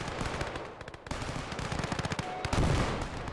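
Dense machine-gun and rifle fire rattles without a break in a hardcore USSR conquest battle in Gates of Hell Ostfront, with rapid overlapping bursts at mixed distances.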